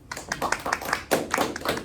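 A small audience claps after a presentation, with close, uneven individual claps rather than a large roaring crowd, the applause briefly swelling about halfway through.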